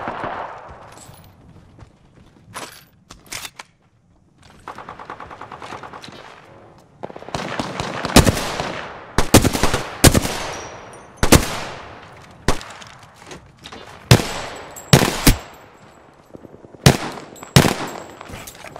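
Alternator submachine gun fire in Apex Legends: a few scattered shots early, then loud, sharp bursts of rapid fire repeating at short intervals through the second half, with no voices.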